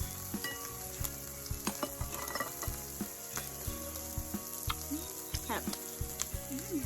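Steady, close sizzling of pork frying on a hot tabletop grill, with clinks of utensils and faint background voices.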